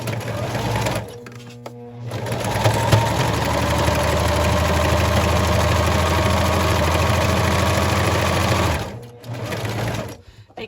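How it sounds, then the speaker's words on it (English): A sewing machine stitches fabric for a handmade pumpkin craft, running in a steady, loud mechanical whir for several seconds, with brief pauses at the start and end. "I'm going to sew it just like the other while you watch"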